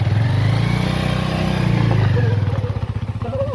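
A motorcycle engine runs loud and close, its steady low drone rising as the clutch is let out and the bike pulls away, turning uneven and sputtering near the end.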